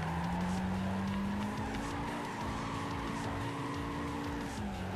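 Tires squeal steadily as a Toyota Trueno drifts in Gran Turismo 5, a sustained screech over engine drone that lasts the whole stretch, moderately loud with no talking.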